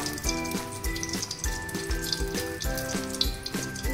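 Mustard oil hitting a hot frying pan before cooking hilsa, a bubbling, crackling sizzle with soft repeated pulses and a faint steady hum behind it, no voices.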